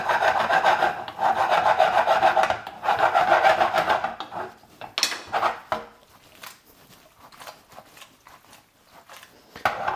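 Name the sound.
mixing cherry tomato pasta through the sauce in pan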